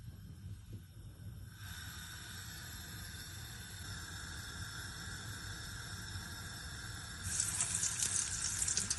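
Food fries in hot oil until golden, a steady soft sizzle and hiss that swells louder toward the end, with no voices over it.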